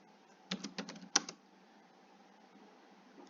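A short burst of fingers typing on a computer keyboard, with a quick run of soft clicks and a sharper keystroke near the end, then quiet room tone.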